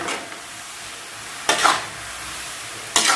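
Steady crackling sizzle of papdi sev frying in hot oil, with two brief louder bursts of stirring or scraping about a second and a half apart.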